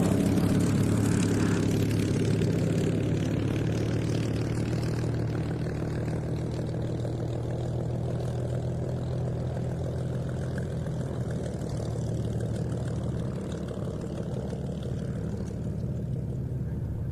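A de Havilland Canada Beaver propeller utility aeroplane drones steadily at an air display, a loud, low radial-engine rumble with propeller buzz held throughout, fairly close and unbroken by talk.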